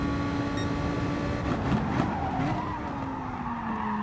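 Race car tires skidding and squealing in the Gran Turismo video game during a GR4 race at Interlagos, a loud sustained screech over steady engine drone lasting the whole stretch.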